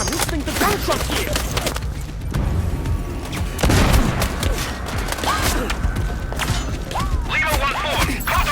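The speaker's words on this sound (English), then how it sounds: "I'm listening to gunshots here!" Gunfire and booming impacts in the video game Sniper Ghost Warrior Contracts 2, with dense rattling shots, thuds and mechanical clatter layered over a busy game soundscape, with brief radio-style voices in between.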